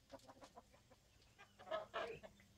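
Soft clucking from a few hens being fed corn, scattered short calls that grow a bit louder and busier toward the end, fairly close.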